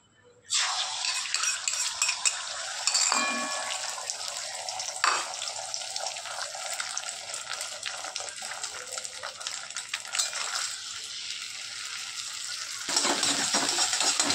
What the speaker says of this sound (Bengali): কড়াইতে আবার ডিমটাকে ভেজে নিচ্ছি